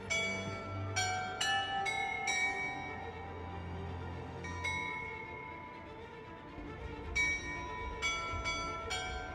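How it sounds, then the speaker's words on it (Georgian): Church bells in Kyiv ring out in repeated, overlapping strikes with long resonant tails, heard from some distance over a low, steady background hum, with no talking. "ეკლესიის ზარებს კიევში არც ისე ხშირად გაიგონებთ."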